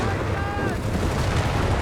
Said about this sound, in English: Panzer III out engaging there with his 50mm cannon.